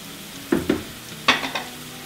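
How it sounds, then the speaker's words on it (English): Dry pasta is dropped into a pot of salted boiling water, producing a few brief clattering splashes followed by soft bubbling and stirring, heard close and alone. "we'll just add the pasta."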